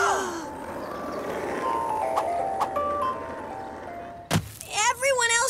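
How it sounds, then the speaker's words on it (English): A cartoon ice cream truck jingle approaches in a simple tinkling melody of stepped notes, followed by a thunk and brief cartoon voices with groaning vocal sounds near the end. "Here comes the ice cream truck."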